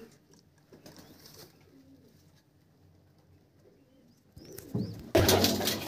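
Pigeons in a loft give soft, low coos, faint at first amid quiet rustling, then a louder burst of cooing and wing flutter near the end.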